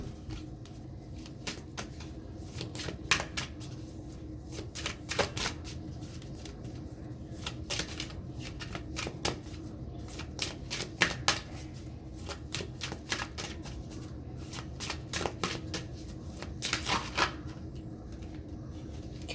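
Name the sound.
shuffling and rearranging tarot cards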